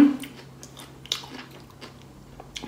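Close, soft biting and chewing of a Thai glass-noodle sausage, a few crisp bites spread through a quiet stretch with no talk.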